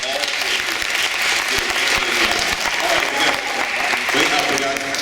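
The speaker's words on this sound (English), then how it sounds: "Again, another round of applause." Sustained audience applause fills the room after a middle school debate round, a dense steady clatter of many hands with a few voices faintly underneath.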